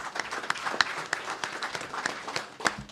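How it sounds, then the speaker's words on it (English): An audience at a press conference claps for a chess player, a moderate scattering of individual hand claps with some sharp standouts, fairly close and without talk. "A round of applause for Valente."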